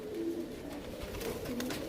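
Rajasthani Kalmoy and Bajra pigeons coo softly as they are let out, with a few low, rounded coos spread over a steady background hum.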